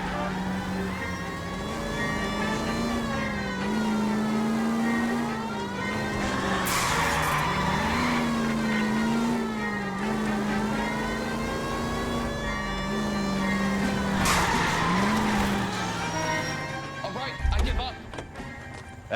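Car engine revving with a wavering, rising and falling tone through a police chase in the L.A. Noire video game, siren-like wails and brief tire screeches on top, with voices talking throughout and a sharp bump near the end.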